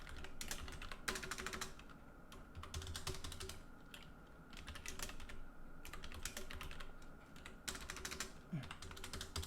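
Typing on a computer keyboard, rapid clustered key clicks in irregular bursts, close, with faint background hum and no speech.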